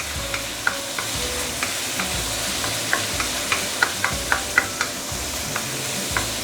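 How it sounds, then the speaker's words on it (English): Curry ingredients for a barramundi fish head curry sautéing in a pan, a steady close sizzle and frying hiss with scattered sharp crackles and pops throughout, no voices. "Let's saute this for a minute or two before we continue."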